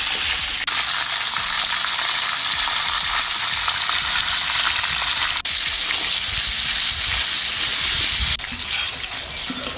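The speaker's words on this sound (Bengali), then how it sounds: "আলু, গাজর, বিনস আর ফুলকপি সব একসাথে দিয়ে দিয়েছি ভেজে নেওয়ার জন্য" Potatoes, carrots, beans and cauliflower fry together with a little salt for vegetable khichuri, making a dense, loud hiss of sizzling oil that holds steady throughout, with a brief pause near the end.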